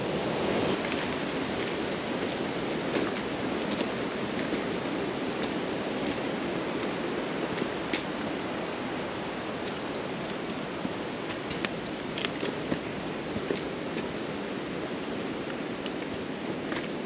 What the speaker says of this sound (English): There's so much water coming down the mountain. I love the sound of water.